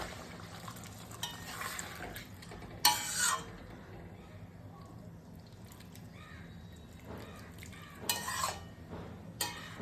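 A duck egg and potato curry being stirred after hot water is added, soft spoon scrapes against the pot at a few scattered moments over a quiet background, with crows cawing nearby.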